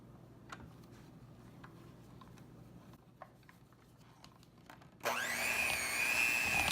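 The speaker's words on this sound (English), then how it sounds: "I am going to use the hand mixer." Quiet scattered clicks and taps of a bowl give way to an electric hand mixer that whirs on loudly and steadily near the end, beating jalapeño popper filling.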